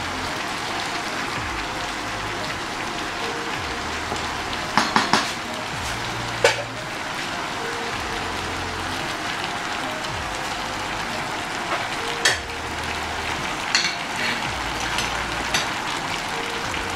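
Tomato, onions and scotch bonnet pepper fry in a pot, a steady even sizzle like light rain with a few sharp clinks of utensils scattered through it.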